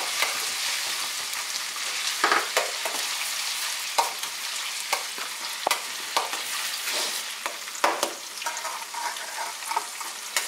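Ginger and onions fry in a pan over cumin seeds, a bright crackling sizzle that runs throughout with repeated louder spatters and stirring knocks, close and loud, with no talking.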